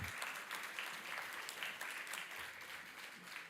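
An audience at a live music show in New Orleans claps for the musicians, making steady, dense applause from a crowd that holds at a fairly even level.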